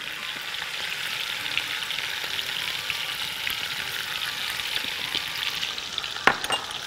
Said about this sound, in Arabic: واقلب، احط الجزر والبصل وابتدي احط بقى معلقه السمنه البلدي